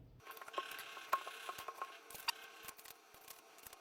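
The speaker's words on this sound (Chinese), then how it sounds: "边打边旋转这个转子的扇叶，让它转起来。" Rotor fan of a Dongcheng cordless rotary hammer spun by hand during gear greasing, giving close, light clicking and ratcheting ticks in irregular bursts, with no talking.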